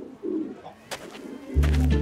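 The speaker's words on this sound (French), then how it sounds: "Et si vous tendez l'oreille, vous pourrez les entendre roucouler." Carrier pigeons coo in cages in Discoveryland, soft low throaty calls close by, followed by a deeper rolling coo near the end.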